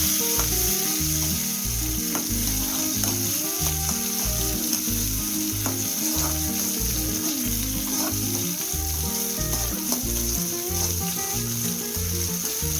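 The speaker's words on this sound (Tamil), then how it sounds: "சூடாக தக்காளி ஆட் பண்ணுறேன்." Chopped tomatoes fry in a hot pan for a Tamil fish kulambu, giving a loud, steady sizzle with scraping stirs throughout, no voices.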